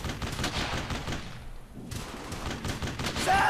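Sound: machine gun fire in video game Brothers In Arms: Hell's Highway

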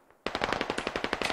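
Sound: gunfire in video game Squad

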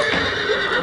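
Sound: horse neighing

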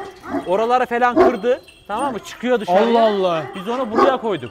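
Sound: Kangal dog barking on a Kangal farm

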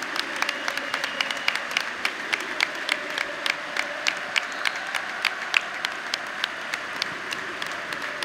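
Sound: stadium crowd applauding Stefan at Juventus vs Hellas Verona

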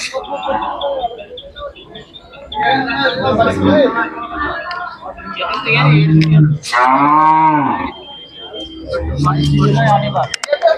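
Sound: Khillar cattle mooing at Sangola livestock market

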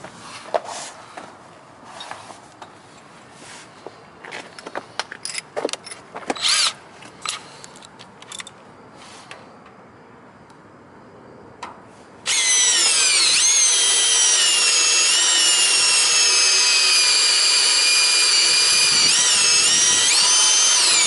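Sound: drilling with a sharp drill bit

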